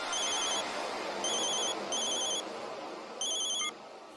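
A cartoon telephone rings in four bright electronic bursts with short gaps between them, loud and clear with no voices.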